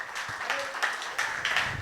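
A church congregation breaks into brief, scattered clapping, a few uneven hand claps rising and falling over a couple of seconds, fairly faint and somewhat distant.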